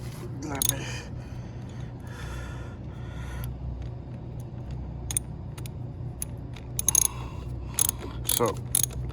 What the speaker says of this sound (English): let me unscrew this